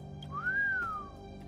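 A single rising-then-falling whistle from a Honkai Star Rail game scene, clear and sustained for about a second over a quiet musical background.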